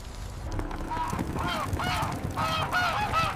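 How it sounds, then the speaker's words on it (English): Several geese honk repeatedly in a noisy chorus, loud and close, with overlapping calls building toward the end. "temple birds wouldn't shut up"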